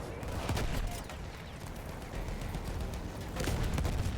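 A field gun fires in the Battlefield 1 video game amid a dense battle soundscape of repeated booms and gunfire bursts, loud and continuous, with a player's voice heard briefly.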